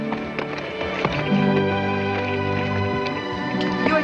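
Horse hooves clip-clopping steadily nearby on hard ground beneath a dense bed of music, with irregular taps through the passage.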